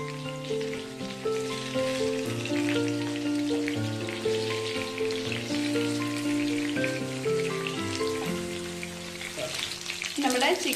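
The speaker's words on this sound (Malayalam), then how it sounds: "ചിക്കൻ്റെ ഒരു സൈഡ് ഫ്രൈ ആയിട്ടുണ്ട്." Pieces of chicken fry in hot oil for a crispy Kerala-style chicken fry, giving a continuous close sizzle under steady background music, with no one speaking.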